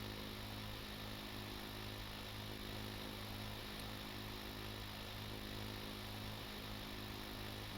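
An oil well drill runs at a deep water well in the video game Stormworks, giving a steady, loud mechanical drone that holds unbroken from start to finish with no voices.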